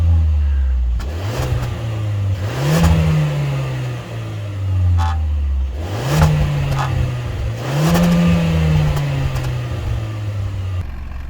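A Kia Ceed 1.5 T-GDI 160 turbo engine with a six-speed manual revs up repeatedly through its exhaust, pitch climbing and falling back in several close bursts, with no talking.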